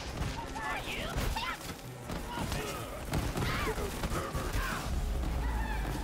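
Night Flyer legendary pistol from Borderlands 3 fires in quick bursts of thumping shots amid game effects, with a voice talking over parts of the action.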